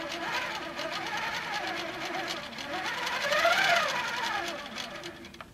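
Longarm quilting machine stitching along a wave ruler, a fast steady needle chatter with a rising and falling motor whine following the curves, close and continuous, with a voice talking faintly underneath.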